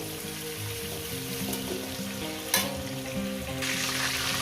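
Prawns fry lightly in oil for a Bengali prawn chorchori with mukhi kochu and spinach, a close, steady sizzle with stirring scrapes, one sharp clatter midway and a louder hiss near the end.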